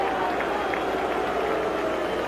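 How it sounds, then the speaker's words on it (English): A large crowd roars steadily at the end of the first half of a 1979 NFL game between the New York Giants and the Los Angeles Rams, filling the stadium with continuous, even noise. "there will not be any more time the way the crowd is reacting"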